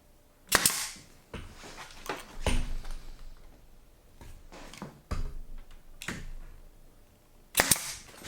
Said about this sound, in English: I'm gluing them, but I'm also going to tack them with the gun there.